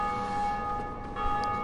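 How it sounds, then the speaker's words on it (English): A bell rings in Dark Souls Remastered, a sustained metallic tone that hangs steadily over a low ambient drone for a brief moment. "Third bell ringing"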